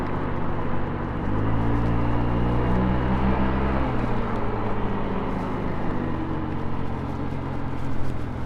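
A Honda Ruckus scooter out on a ride gives a steady engine drone with rushing wind noise, the pitch holding roughly even throughout, loud and close, with no talk.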